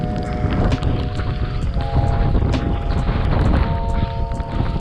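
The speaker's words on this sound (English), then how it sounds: "The wind is just so strong, pushing from my right side" Strong wind roars across a kayak out on open water among big waves, a loud continuous blustery rush with low buffeting gusts and water slaps throughout.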